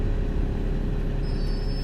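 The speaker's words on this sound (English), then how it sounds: "Let's stop our truck and we'll go and have a quick look." A heavy truck in an Australian truck-driving video game, its engine rumbling steadily while the air brakes engage. A thin, high hiss or squeal rises over the low drone in the final half-second.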